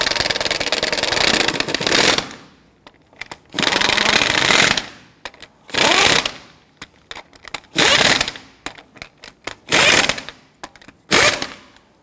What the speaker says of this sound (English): once we get them all started, I'm gonna go ahead and snug them down